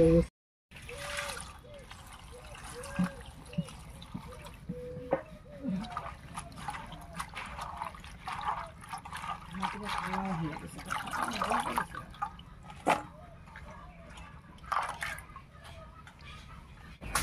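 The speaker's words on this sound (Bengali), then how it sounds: "বেশ অনেকটাই পুঁই শাক কেটে নিয়েছি, এবার পরিষ্কার করে ধুয়ে নেব।" Running water rinses freshly cut Malabar spinach (pui shak) in a kitchen, with a steady trickle and splash continuing throughout, broken by brief louder gushes and handling of the wet leaves.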